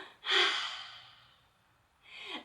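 Two loud, close, breathy exhalations during a seniors' home workout for Nordic walkers, the first long and fading, the second starting near the end.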